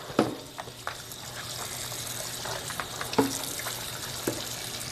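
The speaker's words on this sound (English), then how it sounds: "Then I'm going to fill it up with water." Tap water runs steadily into a bowl holding beef tripe and beef feet, a continuous hissing pour with a few sharp splashes and clinks near the start and midway, heard alone at moderate level.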